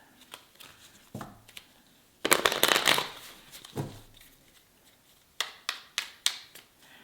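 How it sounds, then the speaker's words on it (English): Cards for the Forest Shuffle board game are shuffled by hand, with a brief rustling riffle near the start, a louder burst in the middle, then several quick crisp taps toward the end. "They're called winter cards and you shuffle them in"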